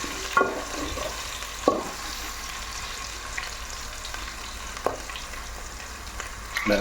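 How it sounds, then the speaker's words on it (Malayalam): Ginger fries in a pan under a steady near sizzle, with a few distinct stirring knocks spaced seconds apart and no voices. "നല്ല നല്ല ഉഷാറായി നല്ലോണം ഇളക്കണം കേട്ടോ"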